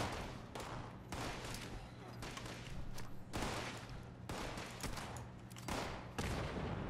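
Rapid gunfire bursts and a grenade blast from combat in Fallout 76 during a workshop PvP defense, a dense, loud crackle of repeated shots continuing throughout with a low steady hum underneath.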